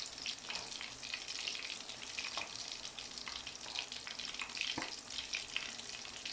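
Mutton koftas frying in oil give a steady, dense sizzle throughout, with occasional soft pops and crackles, moderately quiet and with no voices.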